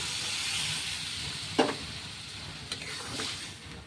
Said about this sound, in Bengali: এখানে পরিমাণ মতো জল দিয়ে দিচ্ছি।